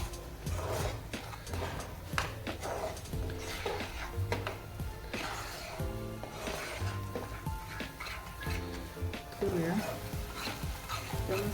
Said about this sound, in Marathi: सगळं मस्त असं मिक्स करून घेऊया